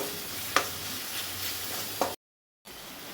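Tomato masala with turmeric and salt sizzles in a pan as it is stirred, a steady frying hiss broken by two soft clicks of the spoon, then a brief silence before the sizzle resumes.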